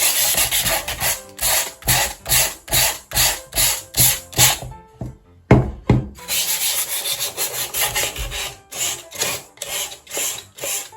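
Wood being rubbed smooth by hand while finishing a wooden craft piece, rhythmic back-and-forth sanding strokes, loud and close, with a brief pause midway before the strokes resume.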